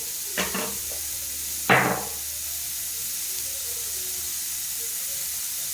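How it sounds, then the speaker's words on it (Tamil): Onions sautéing with salt in a pan for chicken kothu kari give a steady, low sizzling hiss throughout, broken by two brief clattering stirs near the start. "ஸோ அப்போ அந்த வெங்காயம் வந்து நல்லா கிரன்ச்சியாக வதங்கிடும்"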